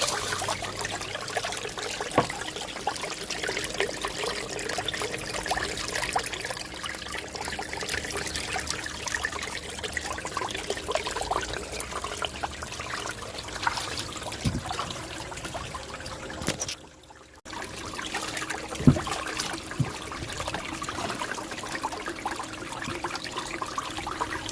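Water trickling and rushing steadily through a Gold Rat mini sluice fitted with a Dream mat, a continuous close splashing flow with occasional louder spatters and one brief dip near the end.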